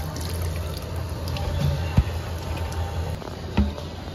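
Tap water pours steadily during washing at a public free-water station, a continuous splashing stream with a couple of sharp clunks and drips.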